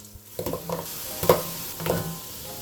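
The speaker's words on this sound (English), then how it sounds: "Now the onions and the carrots." Onions and carrots sizzle in a pot for beef bourguignon, a steady close frying hiss broken by a few louder clatters of stirring.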